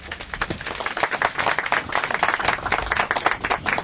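Near, fairly loud applause from an audience at a middle school groundbreaking ceremony, with individual hand claps distinct and uneven within the crowd's clapping.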